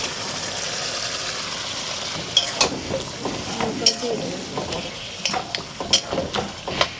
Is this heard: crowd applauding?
no